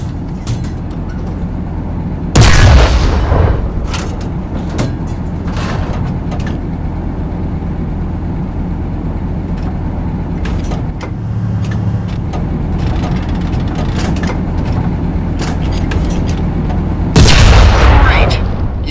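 Tank cannon in the War Thunder game firing at an enemy tank: two loud, sharp booms about fifteen seconds apart over a continuous low engine rumble.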